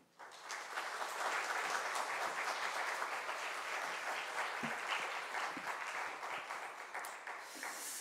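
A church congregation in Namyangju, South Korea applauds steadily and loudly for several seconds to welcome a speaker, the clapping dense and sustained before tapering slightly at the end.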